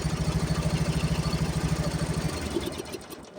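A tractor engine idles steadily with a close, even low-pitched chugging throb, then shuts off after about two seconds and the rumble fades into quiet.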